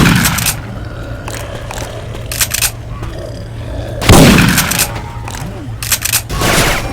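Assault rifle gunfire from a Syphon Filter weapon sound dropped into Left 4 Dead 2, several loud sharp bursts of shots separated by pauses, over a steady low game hum and faint background chatter.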